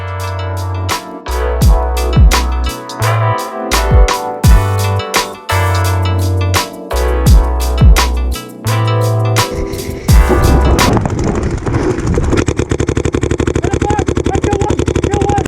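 Paintball markers firing during a pro tournament match, recorded from a barrel-mounted camera: rapid loud bursts of close pops in quick strings, then a stretch of steady mechanical rattle.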